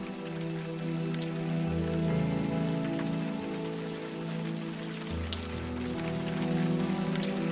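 Steady rainfall in the video game Unavowed, a constant dense patter on surfaces, with low background music droning underneath.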